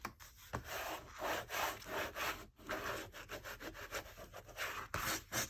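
Paper on an open-spine handmade journal is burnished down with a tool. Repeated dry rubbing strokes scrape back and forth in an uneven rhythm, close and quiet, with no talking.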